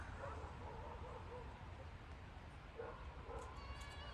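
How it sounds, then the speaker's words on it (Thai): Outdoors in Sweden, among cherry plum trees, a dog barks faintly through steady wind and handling noise. There is no clear talking. "มีหมามาเห่าแถวแถวนี้แป๊บหนึ่งนะคะ"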